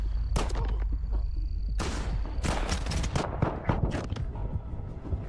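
Dense, loud gunfire bursts and explosive grenade blasts in the video game S.T.A.L.K.E.R. 2, overlapping shots and booms packed together continuously with almost no pause.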